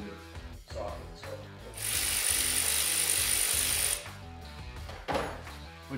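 Small impact wrench with a deep 18 mm socket driving a nut on a Can-Am X3 seat mount: a steady, loud buzzing burst of about two seconds, set between quieter clicks and handling noises.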